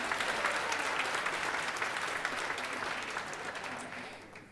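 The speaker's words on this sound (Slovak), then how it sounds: "veľký potlesk pre súťažiacu s číslom 13" Audience applause at a semifinal of the Zlatý Amos 2013 contest, honouring contestant number 13: a dense, steady wash of many hands clapping at full strength throughout, easing off slightly near the end.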